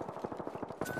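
Rapid bursts of automatic gunfire crackle from a video game, a quick stuttering rhythm of shots that runs nearly without pause, moderately loud and close.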